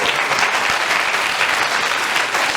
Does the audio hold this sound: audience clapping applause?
yes